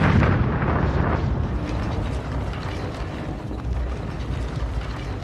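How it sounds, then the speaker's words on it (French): Dynamite bursting beneath a railway rail, heard as a loud, dense, rumbling roar that peaks at the start and then lingers as a rough, sustained crackling wash for several seconds, with no voices. "La dynamite explose."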